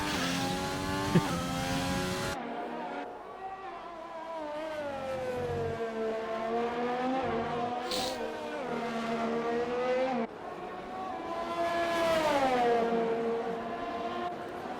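A Renault racing car in a racing video game, its engine whining at high revs with rising and falling pitch through gear changes, loud and continuous with another engine note overlapping partway through.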